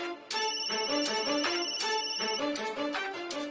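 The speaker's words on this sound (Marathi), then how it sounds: "अगं फोन वाजता, फोन उचल" A phone ringtone plays loudly and steadily, a repeating melodic pattern of electronic tones with no one talking.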